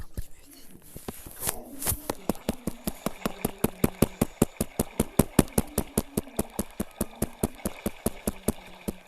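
Fast boat engine in a video game, a steady run of sharp, evenly spaced pulses throbbing close and loud, with a few brief voices at the start.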